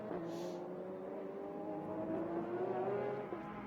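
Porsche GT race cars run at Sonoma Raceway, giving a steady distant engine drone with a shifting pitch as they lap, faint and continuous throughout.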